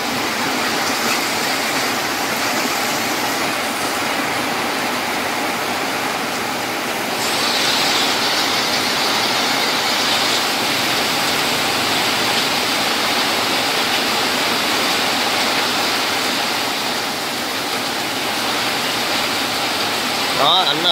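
Heavy rain pours steadily outdoors in a dense, constant hiss that runs for about twenty seconds at an even, loud level, with no clear pauses.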